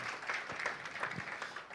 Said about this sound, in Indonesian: tolong tepuk tangannya dulu yang kuat buat Tuhan kita yang baik